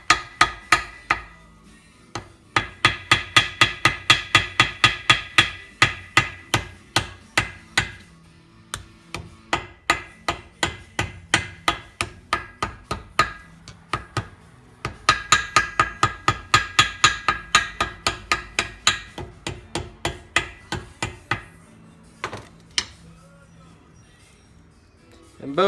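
On a Jacobsen engine's stack muffler assembly, a hammer taps a gasket down onto the flange in quick runs of sharp, evenly spaced metallic strikes, grouped into several bursts with short pauses between them.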